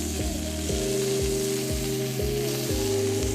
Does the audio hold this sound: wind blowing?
no